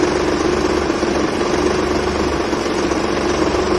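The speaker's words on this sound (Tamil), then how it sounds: "அது நீங்கள் அட்ஜஸ்ட்மெண்ட் பண்ண இன்ஜின் வைப்ரேஷன் உங்களுக்கே தெரியும், குறைகிறது உங்களுக்கு தெரியும்" A 1997 Maruti 800 car engine idles steadily with a low vibrating drone and a constant mechanical hum, loud and close, with no voices.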